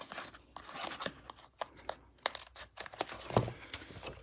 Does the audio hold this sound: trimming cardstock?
yes